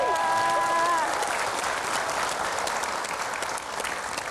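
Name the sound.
audience applause for former Jakarta governors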